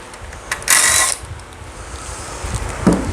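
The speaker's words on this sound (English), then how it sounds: "We'll pop off the fuel pump, which is also 3/8 bolts." A tool whirs briefly against the 3/8 bolts on the fuel pump of a Craftsman engine, then there are quieter clinks and rustles of parts being handled nearby.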